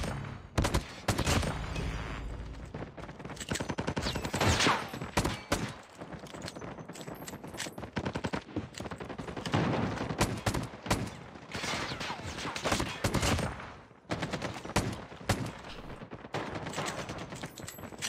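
Rare revolver shots in the mobile shooter Call of Duty Mobile ring out amid dense gunfire, with sharp cracks and rapid volleys repeating throughout a busy, loud match with no pauses.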